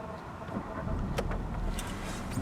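A 1.4 TSI petrol engine in a 2013 Skoda Octavia or 2015 Volkswagen Golf starts up and settles into a quiet, smooth idle, a steady low rumble with a few brief clicks layered over it.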